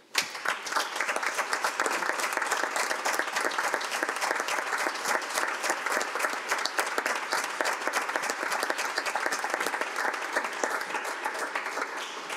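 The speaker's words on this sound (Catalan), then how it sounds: "Amb aquests aplaudiments s'acaba aquesta sessió ordinària del mes d'abril" Sustained applause from the assembled members and audience closing a monthly ordinary city council plenary session, a dense steady wash of many hands clapping at even loudness for the whole stretch, with no talk over it.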